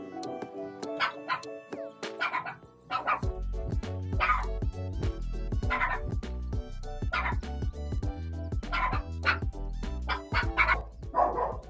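A dog barks and yips repeatedly indoors, close by and loud, in a steady run of sharp barks with short whimpers, while a person talks now and then.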